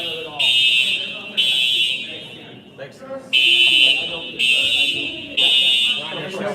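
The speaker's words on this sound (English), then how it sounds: "They pulled the fucking fire alarm on us." A pulled fire alarm rings in loud, piercing bursts of about a second each, repeating with short gaps, while agitated people talk and shout over it during a protest.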